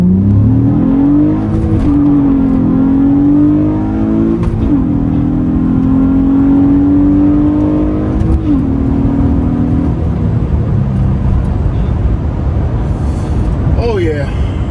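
A 197,000-mile Acura TL's J32 engine with mid muffler deleted and resonators pulls hard from a green light, a rising droning exhaust note loud and close from inside the car, then easing off as road noise takes over.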